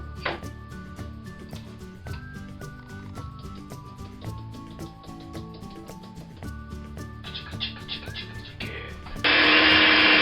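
An electric mixer whirs steadily as flour and corn flour are beaten into Viennese whirl batter, a continuous close motor drone with clattering, ending in a louder, harsher burst.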